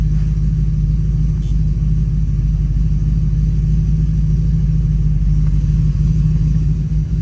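A vehicle's engine idles during an EFILive remote tuning session, a steady, loud, close low rumble that holds even throughout with no one talking.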